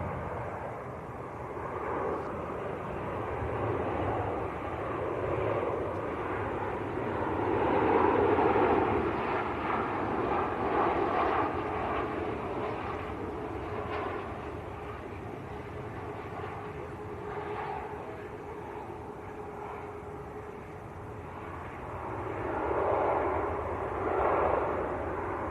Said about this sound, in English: Next to land, a Jet2 from Chambéry,